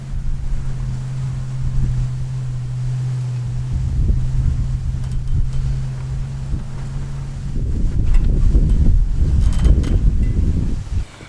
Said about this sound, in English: The wind is really messing with me today